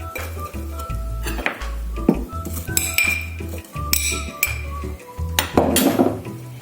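Garlic is dropped into a glass jar for flavoured oil, making a run of close clinks and knocks of glass and utensils, with short pauses between them and no talking.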